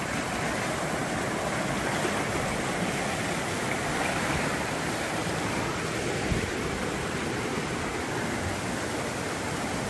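A river swollen by torrential rain rushes over rapids in a loud, continuous roar of churning whitewater that holds steady and close for the whole stretch, with no voices.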